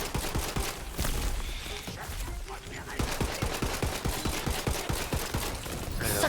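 Gunfire in the video game Tiny Tina's Wonderlands, a rapid series of sharp shots in steady rhythm under game noise, pausing briefly mid-clip before resuming.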